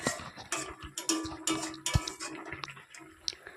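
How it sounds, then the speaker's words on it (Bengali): A simmering water spinach and eggplant curry is stirred in a pot, with wet sloshing, scraping and metallic clinks of the spoon against the pot coming in uneven bursts up close. "আবার একটি নেড়ে নিচ্ছি তরকারিটা"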